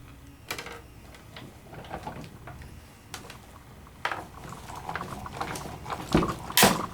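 A die-cutting machine rolls a paper-and-mat sandwich through its rollers, giving faint irregular creaks and cracks over a low mechanical hum, with a couple of sharper snaps near the end.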